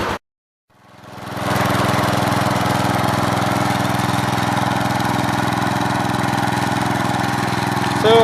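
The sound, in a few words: Gravely 88 tractor engine running while mowing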